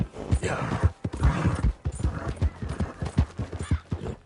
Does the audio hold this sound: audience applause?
no